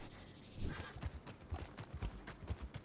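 Horse hooves clip-clopping at a steady walking rhythm in the Red Dead Online game, a Fox Trotter horse with a cow-like coat, moving close and clear with no talk over it.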